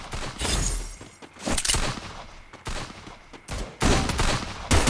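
Bursts of gunfire in the mobile battle game Free Fire, several rapid volleys separated by short gaps, loud and sharp with no talk over them.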